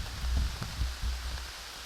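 Rain falling steadily outdoors by a river on public land during a rainstorm, a soft diffuse wash with a few low thumps as drops hit an umbrella overhead, quiet and even.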